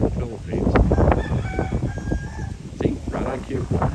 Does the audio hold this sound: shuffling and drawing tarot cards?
no